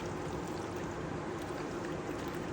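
Sour tamarind water pours over a watered aloo chana chaat in a steady, close, continuous splash and trickle with no talking.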